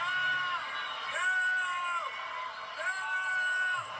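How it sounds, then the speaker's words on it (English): Crowd in a convention center in Thailand jeering the crowning of Miss Mexico, Fatima Bosch, at a beauty pageant: sustained, wavering boos and yells from many voices, fairly distant and continuous. "The crowd erupted in boos"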